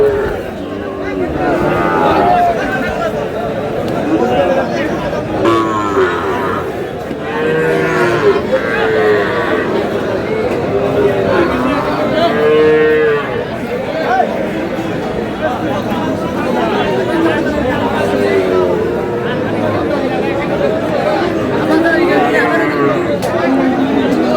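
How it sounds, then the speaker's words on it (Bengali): Loud, drawn-out mooing from a Sahiwal bull, repeated several times over a busy crowd of people chattering nearby at a cattle market in Bagerhat. "শাহিওয়ালের ষাঁড়"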